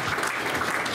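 Audience applause during a methodology seminar, a brief, steady burst of clapping at close range with no talk over it.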